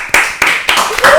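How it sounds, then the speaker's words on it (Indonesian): A few people clap in four distinct, evenly spaced claps, close and loud, with a voice rising underneath near the end. "Tepuk tangan dulu dong."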